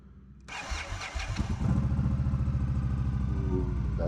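A Scout motorcycle engine cranks over and catches, then settles into a loud, close, rhythmic idle with a deep steady pulse.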